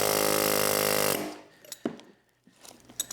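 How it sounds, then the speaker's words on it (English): An air hammer cutting into a scrap electric motor stator, a loud continuous rattling hammer that cuts off after about a second, followed by scattered metallic knocks and clatter. "This is basically the same concept as using the machete, just with an air hammer."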